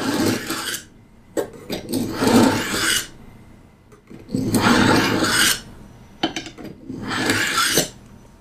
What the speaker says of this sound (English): To hone the knife, you pull through at a downward angle on the side towards the handle.